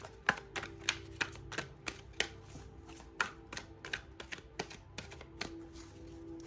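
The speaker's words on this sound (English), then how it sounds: "As you can see, I've been shuffling here as I've been talking" Oracle cards are shuffled by hand in an uneven rhythm of crisp, close slaps and taps, with faint rustling between them.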